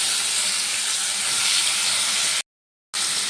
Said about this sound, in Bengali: সব পনিরের টুকরোগুলো দিয়ে দিয়েছি এবার আমি পনিরগুলো ভেজে নেব